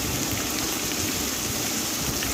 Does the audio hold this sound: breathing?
no